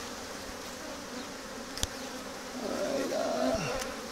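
Honey bees buzz around an opened hive during requeening, a steady close drone that swells in the second half, with a brief sharp click and a short spoken word.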